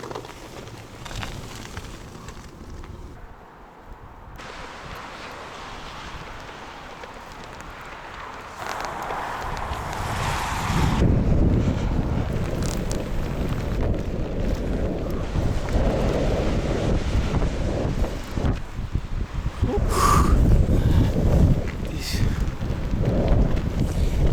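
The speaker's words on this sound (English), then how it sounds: "It's not a storm, but it's a pretty strong wind." Strong winter wind on a forest road in Finland blusters into the microphone in heavy, rising gusts, quieter at first and then roaring loudly through the second half, with no speech.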